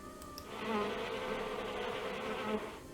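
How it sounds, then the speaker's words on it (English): Steady swarm of bees buzzing in the Nancy Drew: Curse of Blackmoor Manor video game, a continuous droning hum that swells and holds at moderate level with no voices. "it was just a recording of bees"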